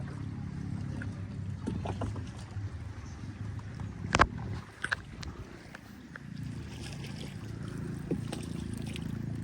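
A small rowboat moves quietly over village floodwater, with soft splashes and a few knocks of oars against the hull amid low steady ambient noise.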